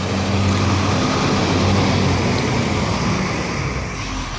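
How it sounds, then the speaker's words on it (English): A loud truck rumbles past outdoors, a broad, steady roar of engine and road noise that stays strong for several seconds and eases slightly at the end, with no voices. "Man, that's a loud truck."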